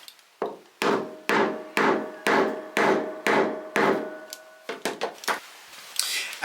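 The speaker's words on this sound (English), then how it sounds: "I'm going to hold it straight and then we're going to hammer it through" A metal star stud is hammered through a hand setting tool with a run of sharp, evenly spaced knocks, about eight strong blows followed by a few quicker lighter taps, close and without talk.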